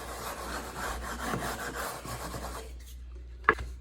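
A wood float rubs across fresh deck mud on a shower pan, a steady rhythmic scraping swish that stops near the end, followed by a short sharp tap.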